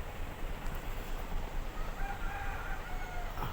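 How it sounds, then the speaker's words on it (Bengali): Colour-breed chickens packed ten to a sack for sale and weighing on a farm give out faint, muffled clucks under a steady broadband hum of background noise. "এই যে বস্তাতে মুরগি একটা বস্তায় দশটা করে মুরগি"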